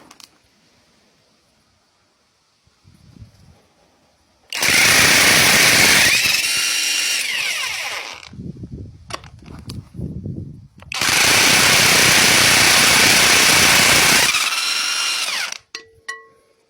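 A cordless electric impact wrench hammers loudly at a rusty 30 mm nut on a corroded drum, in two long rattling bursts of about three and four seconds, with brief knocks and handling noise between them.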